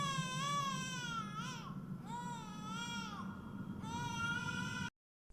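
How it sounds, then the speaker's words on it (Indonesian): An infant in the horror film The Lullaby cries continuously in loud, rising and falling wails with brief catches of breath, then cuts off abruptly. "terdengar suara Liam yang sedang menangis"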